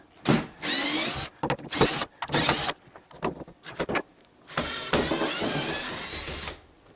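A power drill backs old screws out of a door hinge in bursts: several short whirring runs separated by pauses, ending in one longer steady spin, close and fairly loud.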